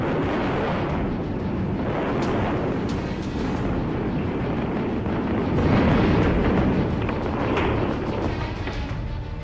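Massive demolition blasts bring down the Noida twin towers: a sustained, roaring rumble of explosions and collapsing debris, loud and dense, with rolling bursts and crackling that swell and ebb over several seconds, heard from a distance.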